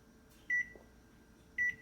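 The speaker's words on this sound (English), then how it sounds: "let's microwave it for about 10 seconds." A microwave oven heating a s'more hums quietly and gives two short, clear electronic beeps about a second apart.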